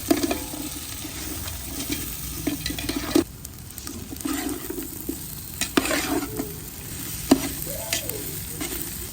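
Fried gobi is tossed with red chilli sauce and soy sauce in a hot pan, sizzling steadily while a spatula scrapes and clanks in several distinct bursts.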